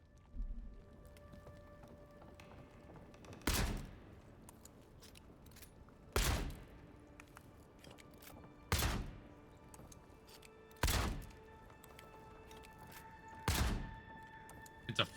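A flintlock pistol fires in the fantasy game Avowed. Five sharp, loud shots ring out alone, each about two and a half seconds apart, each followed by a brief decaying tail over a quiet ambient background.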